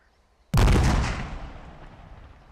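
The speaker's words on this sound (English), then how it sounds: "Stand by for controlled detonation. Fire in the hole, fire in the hole, fire in the hole." A controlled detonation of an explosive charge in the Arma military game: one sudden, loud blast that slowly rolls off into a long, fading rumble, with nothing before it but quiet.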